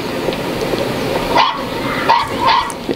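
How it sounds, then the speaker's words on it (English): A dog in the 1981 film An American Werewolf in London barks fiercely, giving several sharp yips and barks over a dense, noisy background. "He's getting fierce borks."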